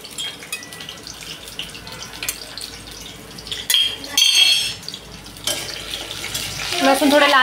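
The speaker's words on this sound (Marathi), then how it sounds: "अगोदर आपण तेलात मस्त लसूण फ्राय करून घेऊया।" Garlic frying in oil for a soybean chilli dish, with a light crackle and sizzle in the pan, punctuated by a few louder bursts and clatters of utensils near the end.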